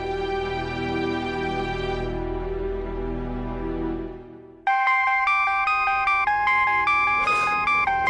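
Phone ringtone of an unanswered call: a sustained droning tone fades out, then a bright, loud electronic melody of repeating chimes rings on alone.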